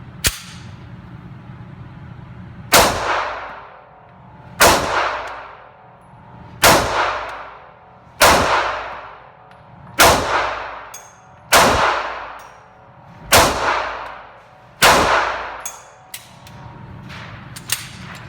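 Sig Sauer P239 single-stack pistol fired at a target 10 yards away: about eight loud, sharp shots with ringing tails, spaced roughly two seconds apart in a steady rhythm, with no talking.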